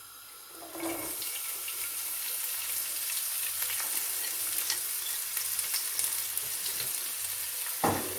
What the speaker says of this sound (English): you put in your onions.